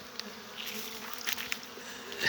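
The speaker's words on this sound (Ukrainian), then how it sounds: "Зверніть увагу, бджоли просто працюють собі" Honey bees buzz around a hive at an apiary, a steady, faint drone of many insects with a few individual bees passing close. No voices.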